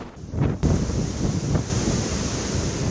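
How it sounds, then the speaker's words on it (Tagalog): A very strong wind roars in gusts at Gonzaga, Cagayan during a coastal storm, buffeting the microphone with a loud, dense rush that swells and eases over a few seconds, with no voices. "Sumisipol ang napakalakas na hangin sa Gonzaga, Cagayan."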